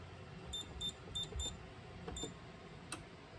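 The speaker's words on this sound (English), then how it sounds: "So here, I'm going to arm the panel." An alarm system panel beeps as it is armed: a series of short, sharp, high electronic beeps, four close together and then two more spaced apart, loud and near over faint room noise.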